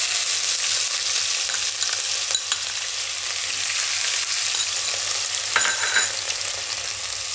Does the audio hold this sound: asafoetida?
yes